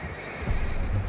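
A horse in the Red Dead Redemption 2 video game whinnies loudly and close, a short neigh over a busy game backdrop with low rumbling.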